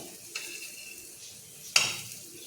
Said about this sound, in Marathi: तवा गरम असतो ना व्यवस्थित असे ते भाजले जातात